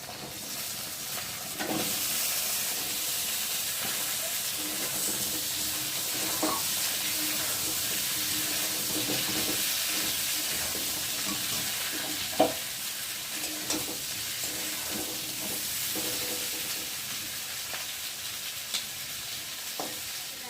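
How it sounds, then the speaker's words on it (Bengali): Cut pointed gourd and potatoes fry in oil with browned onions in a pan, giving a steady soft sizzle and hiss throughout, with occasional clinks and scrapes of stirring. "এখন আমি এই কেটে রাখা পটল আলু দিয়ে ভালো করে ভেজে নেব"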